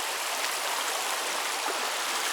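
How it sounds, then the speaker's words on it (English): The Tallulah River rushes loudly and steadily, a dense, unbroken roar of moving water close by with no voices. "The water is so loud"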